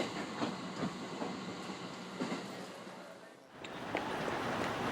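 A train rumbles steadily with faint clickety-clack of wheels on the rails and a brief dip in the noise before the rolling resumes, departing a station in Japan bound for Tokyo.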